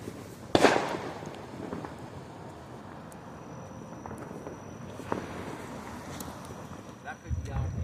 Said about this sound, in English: the car cruise is having fireworks